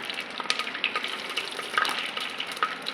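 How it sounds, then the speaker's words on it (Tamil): Mustard seeds and fenugreek sizzle in hot oil for a traditional fish curry, a steady crackling hiss with small pops scattered throughout, close and moderately loud. "சூடான எண்ணெயில் கடுகும் வெந்தலும் போட்டுக்கலாம்."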